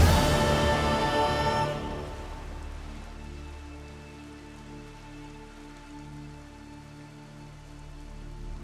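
Rain falls steadily in the Witcher 3 video game, a soft even patter that carries on alone after a brief louder opening burst.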